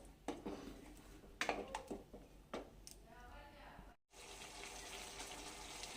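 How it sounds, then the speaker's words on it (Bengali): Water runs and splashes into a mixer-grinder jar as it is rinsed in a kitchen, a steady gushing stream with a few clinks. A brief dropout comes near the end, and then a brighter, fuller flow continues. "মিক্সির জার ধুয়েই অল্প একটু জল দিয়ে দিচ্ছি"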